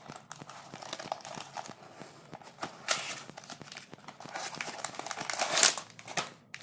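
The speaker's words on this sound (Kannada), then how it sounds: "ನೆಕ್ಸ್ಟ್ ಇನ್ನೊಂದು ಪೀಸನ್ನು ಓಪನ್ ಮಾಡಿ ತೋರಿಸ್ತಾ ಇದ್ದೀನಿ" A plastic wrapper around a budget Meesho jewellery piece crinkles as it is opened, giving close, continuous crackles with louder bursts toward the middle and end.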